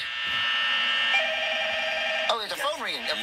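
A steady electronic phone ring trills, then gives way to warbling, sweeping synthetic tones; no talk is heard.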